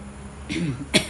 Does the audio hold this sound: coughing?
yes